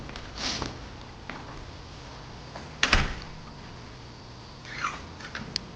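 A door is pushed shut with a few soft knocks and one sharper clack midway, quiet and close in an otherwise still room.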